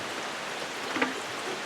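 Steady, dense rain falling hard outdoors in a garden with hanging cucumber baskets, a continuous broadband hiss with a few brief nearer drips or taps, no talking.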